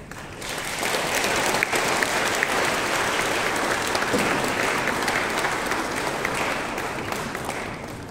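Sustained applause from an audience at an Asian Art Museum honoring ceremony, a dense steady wash of clapping that holds loud for about eight seconds and eases slightly at the end.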